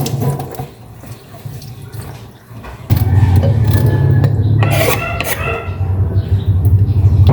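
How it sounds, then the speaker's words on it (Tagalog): Bitter gourd (ampalaya) is rinsed in a sink. Water splashes and pours loudly up close, with gurgling and clinks in irregular bursts, and no speech. "Linisan ko natin yung ampalaya at islesin para mababad ko muna siya sa tubig na may asin."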